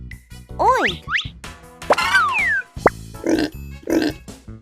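A pig gives several close, loud squeals and rising squeaks, then two deeper nasal oink grunts near the end, with no talk over them.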